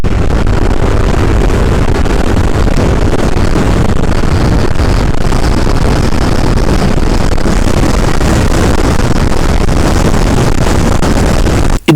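Honda SH 350 scooter accelerating hard for about fifteen seconds, carrying a rider and passenger, a steady loud roar of engine and wind buffeting close up with no pause and no talk.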